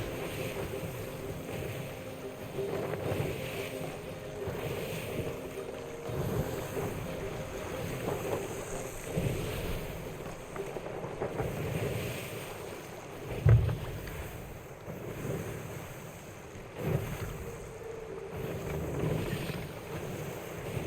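A sailing ship moves across open ocean in Sea of Thieves, with a continuous wash of wind and waves, a low hull rumble and a single louder thump partway through, no talking.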